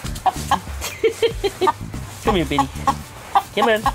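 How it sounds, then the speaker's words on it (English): A chicken clucks close by in a series of short, sharp calls while someone works under a VW Type 3 Fastback, and someone talks to the bird over the clucks. "getting humped by a chicken"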